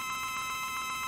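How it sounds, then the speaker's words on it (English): A phone rings or chimes near a microphone during a livestream, a steady electronic tone pulsing in an even rhythm of repeated beeps with no talking over it. "I forgot to mute my phone."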